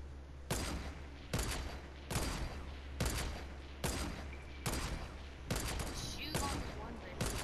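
Gunfire in the video game Fortnite, eight evenly spaced loud single shots in a steady rhythm, each with a short decaying tail over a low constant hum.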